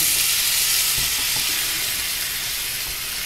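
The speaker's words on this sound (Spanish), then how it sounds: "Yo en este caso yo doro todo, cebolla y todo, y el ajito" Onion and garlic browning in a pan sizzle and fry with a steady, dense hiss, close and continuous, with a few soft stirring knocks and no talk.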